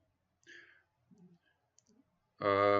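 A computer mouse clicks on a software icon in an editing program, a few soft isolated clicks in a quiet room before a person starts talking near the end.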